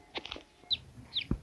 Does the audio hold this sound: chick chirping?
yes